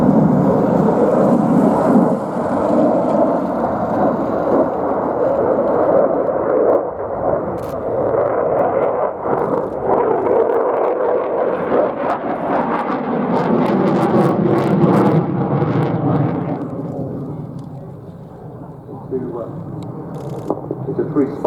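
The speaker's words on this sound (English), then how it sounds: "preparing the aircraft for takeoff" Aircraft engines at an air show rumble and roar loudly and continuously as planes prepare for takeoff, a broad low drone that swells and fades, with commentary talking over it.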